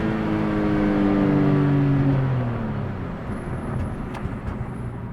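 A BMW E46 M3 with an SMG tune revs in the cabin, the engine note sweeping up then dropping away, followed by a rougher, crackly exhaust burble on deceleration, loud and close with no talking.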